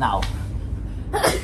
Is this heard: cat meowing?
no